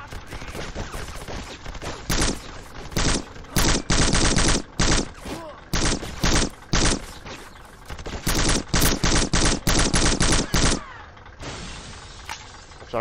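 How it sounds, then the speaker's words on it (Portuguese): Bursts of gunfire from the video game Black, rapid automatic volleys with sharp shattering impacts arriving in loud clustered salvos separated by short pauses, continuous and dense throughout. "Estou a ouvir tiros, só que não estou a ver de onde é que eles estão a vir"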